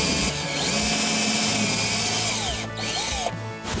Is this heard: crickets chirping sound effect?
no